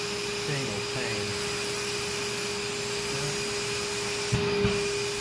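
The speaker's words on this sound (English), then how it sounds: "You get the vacuum out" A vacuum cleaner runs steadily while cleaning glass panes, a loud, close, continuous whine with a constant pitch. Brief rubbing and knocking sounds come near the end, and a voice may be faintly present.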